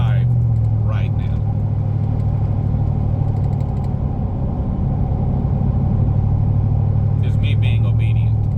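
Steady low engine rumble and road noise from a car cruising along a country road, continuous and close, with a voice talking over it throughout.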